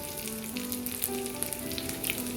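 Bottle gourd thoran with turmeric sizzles and fries steadily in a pan, a close, soft crackle with faint scrapes of stirring and no talking.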